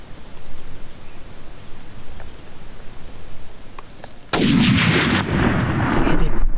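A single loud gunshot while hunting, cracking after several seconds of quiet outdoor rustle and followed by a long rolling echo and rumble.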